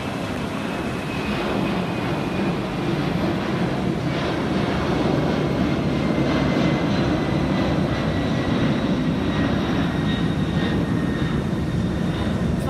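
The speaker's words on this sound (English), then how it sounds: "Coming off London Heathrow is your 1530 flight 959 United Airlines flight to Chicago" United Airlines flight 959 to Chicago taking off from London Heathrow, a steady broad jet roar at moderate distance sustained throughout, with a faint whining engine tone.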